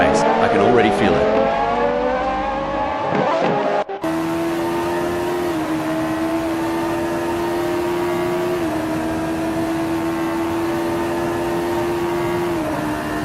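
Radical SR3 race cars launch off the start line at Sebring International Raceway in a sim racing game, several engines revving high and climbing together before one steady, droning engine note holds on.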